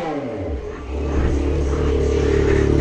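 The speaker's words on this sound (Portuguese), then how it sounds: "tá acelerando, tá fazendo barulho" A Yamaha XJ6 motorcycle with an aftermarket 2.5-inch stainless steel Atalla exhaust revs up from idle to a loud, raspy, sustained growl, close by and continuous.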